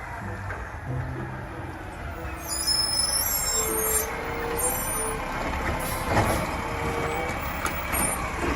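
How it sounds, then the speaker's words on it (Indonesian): A toy garbage truck plays electronic truck sound effects, with hissing air-brake bursts, rumbling engine noise and high beeping tones, all fairly loud and near over several seconds. "Ada mobil truk sampah."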